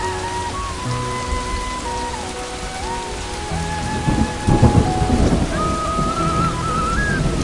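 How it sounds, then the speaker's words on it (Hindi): A rain and thunder sound effect for a Janmashtami skit gives a steady, loud downpour with a rumbling roll of thunder midway, while soft sustained music tones play underneath. "शेषनाग ने बालक को बारिश से बचाया।"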